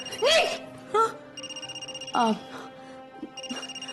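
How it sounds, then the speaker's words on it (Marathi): A phone rings indoors in a domestic scene from a Marathi TV serial, its electronic ringtone pulsing rapidly and steadily at moderate volume, with brief voices speaking between and over the rings. "माझा फोन वाजू राहिला"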